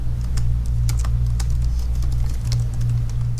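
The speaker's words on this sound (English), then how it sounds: "So you can see as I'm typing," Someone types a password on a computer keyboard while setting up a Gmail account, a quick irregular patter of light key clicks close by over a steady low hum.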